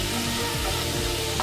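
Garlic paste stirred and frying in a pan for cabbage kofta curry, giving a steady close sizzle with soft scraping of the stirring throughout the brief moment, no voices.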